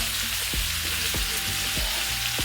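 Onion and spiny gourd frying in oil, a dense continuous sizzle with a few sharp spatula knocks against the pan at a steady pace, close and loud with no talking.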